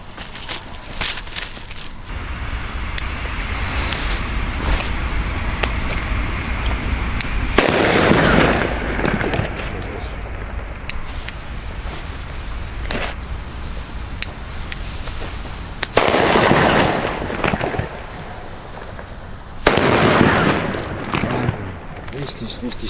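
Funke Super 2 firecrackers set off on a street at New Year's Eve, a series of sharp loud bangs with crackling bursts spread across the stretch, some sounding close and others further off, with ambient street noise between.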